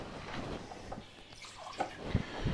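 Water poured from a container into a measuring vessel to make up a cheese omelette sachet, a short, quiet trickle with a few soft splashes and drips, with no talking.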